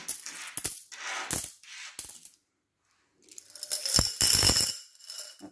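Handfuls of small centime coins clatter into a glass candle jar in a few loud, close bursts of metallic jingling, with a brief silent gap between pours and nobody talking.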